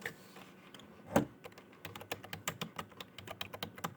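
Someone types code on a computer keyboard: one loud key strike, then a quick, steady run of close, crisp keystrokes.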